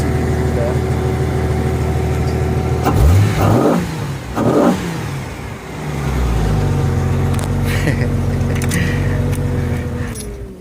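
Jeep XJ engine idling then revved sharply twice in quick succession, each rev a loud rising surge, before settling back to a steady idle with a faint metallic jangle.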